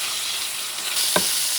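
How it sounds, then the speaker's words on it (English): Ingredients for a bayou alligator stew cook in a pot with a constant bubbling hiss that grows slightly louder partway through, marked by one sharp clink near the end and no voices. "Just simmering."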